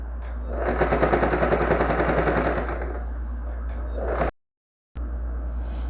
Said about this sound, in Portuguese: eu vou fazer a costura de acabamento. Um retrocesso no início e um retrocesso no final